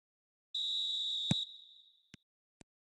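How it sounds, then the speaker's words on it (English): Referee whistle opening a football match in a video game: one sharp, shrill blast held for about a second, then trailing off, followed by two faint clicks. "There's the whistle, and here we go."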